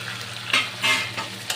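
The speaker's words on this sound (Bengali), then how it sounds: "তো 30 থেকে 40 সেকেন্ড আমি ভালো করে নেড়ে নিয়েছি।" Fried chicken being stirred in a pan with tomato sauce and soy sauce: a few scraping strokes over a steady sizzle, close and loud, with no talking.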